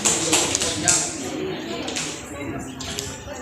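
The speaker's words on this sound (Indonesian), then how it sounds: "Kita beri aplaus untuk kita semua dulu." A classroom group claps together, a brisk burst of applause that starts loud and gradually thins out over a few seconds, with voices mixed in.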